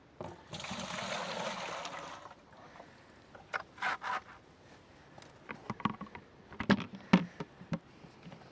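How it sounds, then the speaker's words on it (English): Maple sap trickles and drips into a collection bucket outdoors, a soft watery patter with scattered small drips and faint splashes, fairly quiet and close. "And the sap is still flowing."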